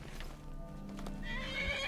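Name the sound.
horse hooves in video game Skyrim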